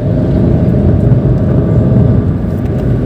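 Inside a 2014 Nissan March 1.2 L manual on an out-of-town road near Subang, the engine and tyre rumble hold loud and steady, droning throughout with no voices.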